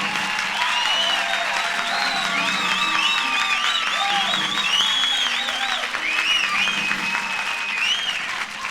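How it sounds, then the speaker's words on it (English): An audience applauds Martin Mull at a 1979 comedy show, with sustained, dense clapping mixed with cheers and a few whoops that carry on steadily throughout. "I heard everybody still clapping and everything."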